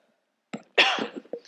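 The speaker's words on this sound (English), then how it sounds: "excuse me, I'm hacking, coughing again." A person coughs nearby: one harsh, raspy hack followed by a few smaller throaty bursts in a quiet room.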